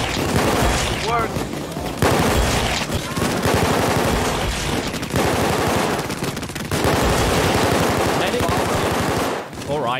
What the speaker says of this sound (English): why is the M308 so loud still?